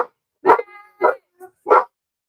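Several sharp dog barks in a sparse rhythm, loud and close, with a faint tonal whine between them and no talking.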